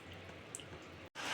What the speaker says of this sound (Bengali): বৃষ্টি নেমে গেছে বুঝলে তো বিশাল বৃষ্টি নেমে গেছে